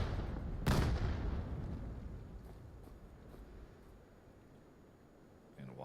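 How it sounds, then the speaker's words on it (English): A grenade blast in the VR shooter VAIL lands as one sharp, loud boom near the start, followed by a long rumbling decay and scattered distant pops, with a fresh burst right at the end. "Another nade coming up over the top and another defensive smoke."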